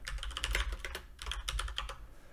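Rapid clicking keystrokes on a computer keyboard come in two quick bursts, close and clear, with no talking.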